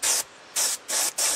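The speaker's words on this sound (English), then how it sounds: "I'm just using some airbrush techniques to darken the outer edges." Four short close bursts of an airbrush spraying lacquer thinner mixed with dark brown and black dye onto the edges of a mandolin top, bright hissing puffs with brief gaps between them, outdoors in strong sun.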